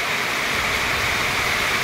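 Steady, dense hiss of heavy rain pouring down nearby, continuous and even throughout with no voices.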